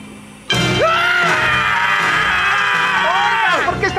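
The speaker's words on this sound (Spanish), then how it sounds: "¡Gritando!" Cartoon characters from SpongeBob scream loudly and continuously for about three and a half seconds, a shrill sustained wail with wavering pitch, right up close.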